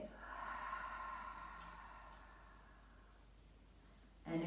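A long, soft breath pushed out through an open mouth during a gentle yoga flow, a single airy exhale that fades over a few seconds, close and quiet.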